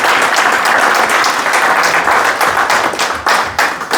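A church congregation breaks into loud, sustained applause close by, dense clapping filling the whole stretch with no pause.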